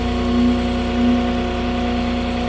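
Diesel engine of a Moffett truck-mounted forklift running steadily with a strong low hum and tonal drone as the front wheels climb a curb, loud and close with slight swells in level.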